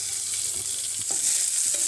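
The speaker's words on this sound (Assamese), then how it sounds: "এতিয়া মই পিঁয়াজখিনি এই গৰম তেলত দি দিম" Onions hit hot oil already seasoned with cumin in a home Assamese kitchen, giving a steady close sizzle with a few spoon scrapes and stirs, no talking.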